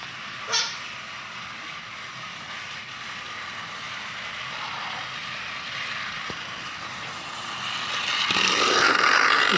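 A toy Thomas speed train with headlights runs along a track about 20 feet long, making a faint, steady mechanical whir and rattle that grows slightly louder toward the end, with a brief knock near the start.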